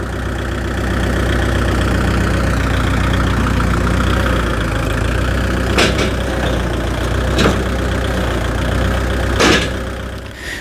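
A Swaraj tractor engine idles steadily at neutral RPM with no drop in speed, a continuous low mechanical rumble with a few sharp clanks over the top.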